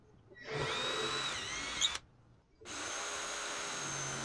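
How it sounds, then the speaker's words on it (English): A power drill whines at high pitch for about a second and a half, stops briefly, then spins up again steadily while boring a pilot hole through wood; close and alone. "I'm just going to drill a pilot hole from the bottom out to the top."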